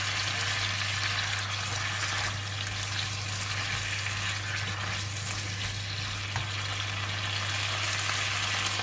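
Mustard green stems stir-frying with pork belly in a hot pan, a loud continuous sizzle with a steady low hum underneath, no talking.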